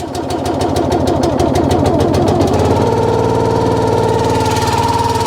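A brand-new wood splitter's small gasoline engine starts up with choke and a bit of throttle, loud and close, chugging in a rapid uneven rhythm before settling into a steadier, smoother run.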